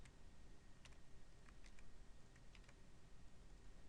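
HTML code is typed on a computer keyboard in a steady patter of light, close key clicks, with a few sharper taps standing out over faint room hiss.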